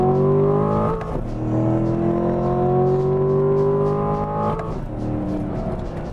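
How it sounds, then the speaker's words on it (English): A 2016 C7 Corvette accelerates hard in second gear from about 45 mph, its loud engine note climbing steadily with a brief dip at each surge, close and dominant throughout. "Let's try a second gear punch this time."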